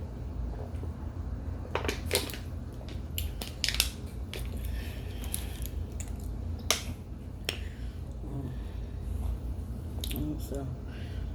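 Frozen chunks of cornstarch and baby powder crushed by hand, sharp squeaky crunches and snaps coming in irregular bursts, close and crisp over a low background hum.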